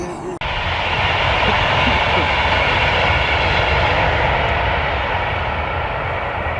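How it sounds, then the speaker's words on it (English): An Avanti passenger train on the West Coast Main Line rushes past close by, a loud steady roar that starts abruptly and holds for several seconds. "just to prove we were on the West Coast Main Line. The Avanti heading to Euston"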